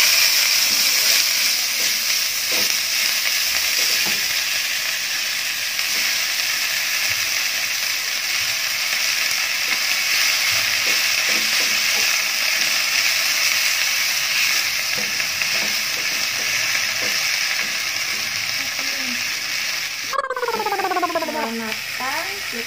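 Spinach sizzling and frying in a hot pan while being stirred, a continuous loud hiss with scraping stir strokes, ending in a brief clatter; a voice speaks over it.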